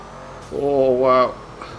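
Cars sliding sideways during a chaotic chase in GTA 5 Online, a loud engine rev surging for under a second with a rising pitch, amid background game sound.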